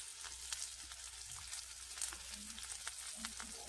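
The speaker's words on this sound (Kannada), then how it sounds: "ಇದು ಚೆನ್ನಾಗಿ ಕರಿತಿದೆ." Green chilies and chopped onion frying in oil for Betageri chutney, a steady hissing sizzle with light stirring scrapes, close and fairly quiet, no voices.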